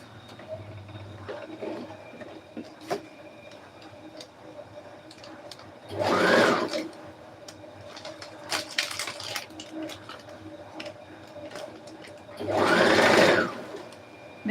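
A sewing machine stitches boning onto a corset made from plastic bags, running in two short loud bursts of rapid needle chatter, close up, between quieter handling clicks.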